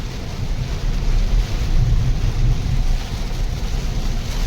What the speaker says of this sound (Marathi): बघा पाऊस, बघा जबरदस्त पाऊस चालू आहे